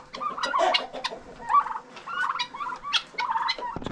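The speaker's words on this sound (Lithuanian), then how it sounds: "Turim daug kalakutų" Many farm turkeys gobble in repeated, overlapping bursts, loud and close, with a few other fowl calls mixed in.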